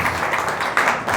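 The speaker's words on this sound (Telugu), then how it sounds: "చప్పట్లు కూడా వినిపించండి" Church congregation clapping together in steady, dense applause, loud and close, with a slight surge near the end and no talking.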